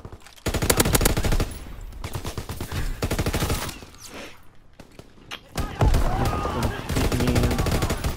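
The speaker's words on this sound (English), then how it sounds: "Why is this guy always shooting at me, man?" Rapid automatic gunfire crackles in a World War II video game, dense bursts of shots rolling on and off at close range with scattered thuds, while players talk over the action.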